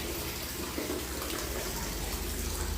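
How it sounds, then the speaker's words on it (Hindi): Very hot water gushing steadily from a bathroom tap to fill a bath, a loud, continuous close rush of water with no pauses. "बहुत गर्म पानी आ रहा है"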